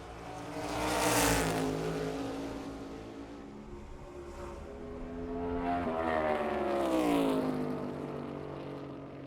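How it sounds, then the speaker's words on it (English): NASCAR Cup Series race cars in qualifying for the Cook Out 400 roar past on track, engine note swelling as one car approaches and fades, then a second pass builds again with a rising, shifting whine; loud and continuous, no talk. "Group B cars will be on track."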